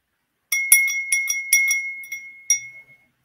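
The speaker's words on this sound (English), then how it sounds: "very sweet little bell." A very small Christmas bell rings with bright, high metallic tinkles, several quick shakes in an irregular cluster followed by one last strike and a clear ringing decay into silence.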